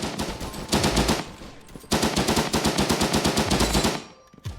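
Rapid automatic machine gun fire in the online PvP shooter game Frontline Inferno: two long, loud, close bursts of evenly spaced shots, split by a brief gap, then a softer trailing shot.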